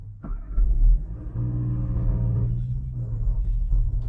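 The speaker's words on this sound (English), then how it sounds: "we just hear the engine noise" Engine of a 2021 Volkswagen Tiguan heard from inside the cabin while driving, a low steady rumble that swells briefly as it revs, then settles into a smooth hum.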